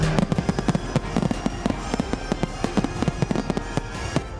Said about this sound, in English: illegal fireworks being set off all over Southern California